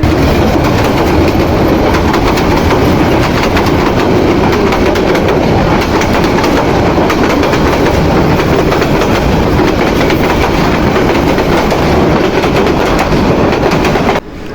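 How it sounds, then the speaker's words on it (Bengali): A local train pulls away from Tejgaon railway station in Dhaka, heading toward the airport, with a loud, continuous close-range rumble and wheel clatter that fills the whole span without a break. "তেজগাঁও রেল স্টেশন থেকে ছেড়ে আসা একটি লোকাল ট্রেন বিমানবন্দর অভিমুখে যাত্রা করছে।"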